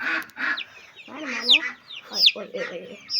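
A small chick peeps in a garden with short, high, rising calls in quick bursts, close by, alongside lower clucking and bits of nearby voices.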